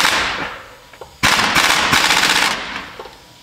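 Impact gun loosening bolts while pulling a 12-valve Cummins engine out of a Ford Dentside truck: loud, close rattling hammer bursts, a short burst followed by a longer sustained run of rapid impacts.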